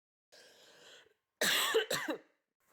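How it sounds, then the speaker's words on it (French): Close, loud coughing fit: a first rough, hoarse burst, a short pause, then two sharper harsh coughs in quick succession, with no talking. "excusez-moi, je tousse."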